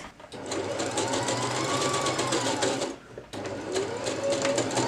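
A sewing machine lock stitches at the center back of a Laura sewalong garment. It whirs steadily and close up for several seconds, breaks off briefly, then runs again, with no talk.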